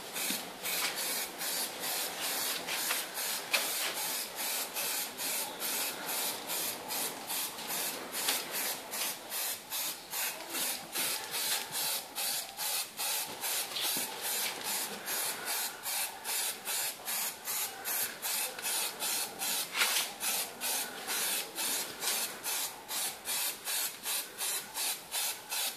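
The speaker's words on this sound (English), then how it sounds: "Again, short bursts, no continuous spraying to avoid any watermarks." Red Foliatec spray film is sprayed onto a wheel in short, rapid bursts, a long even series of quick hissing puffs with brief gaps between them and no voices.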